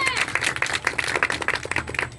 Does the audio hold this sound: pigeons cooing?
no